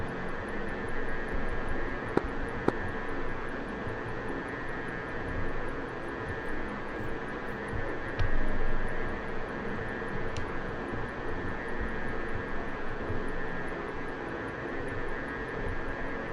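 A MiG-15 jet engine drones steadily in the DCS flight simulator, a constant whining roar with a high tonal hum, broken only by a couple of faint clicks.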